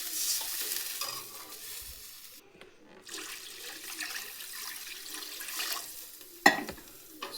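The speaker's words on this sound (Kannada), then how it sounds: "ಸೊ ಇದೇ ಪಾತ್ರೆಗೆ ಇವಾಗ ನೀರು ಹಾಕ್ಕೊಳ್ಳುವ, ಎಷ್ಟು ಬೇಕಾಗುತ್ತೆ ಅಷ್ಟು" Water rushes into a cooking pot for vermicelli payasam, a steady close pour that rises and falls over several seconds, briefly pauses, then ends with a sharp knock.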